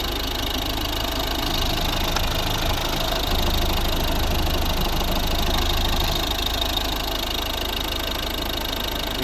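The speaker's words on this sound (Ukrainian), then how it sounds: "Ідеально рівно тихо працює цей двигун." Diesel engine of a 2012 Volvo V50 1.6 D2 (D4162T, single camshaft, eight valves) idling, a steady, even low hum with constant vibration and no voices.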